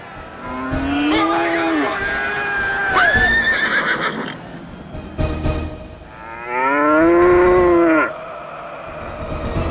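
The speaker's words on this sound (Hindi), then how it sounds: "ये गधे और गाय कहां से आए?" Cows and donkeys give several loud, drawn-out calls, bellowing moos and braying, in separate bursts, with a few hoof clops and rustles between them.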